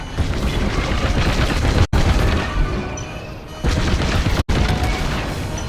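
Starfighter combat in the Star Wars Squadrons video game, dense booming blasts and crashing weapon fire layered continuously, loud and close, with two abrupt cuts in the din.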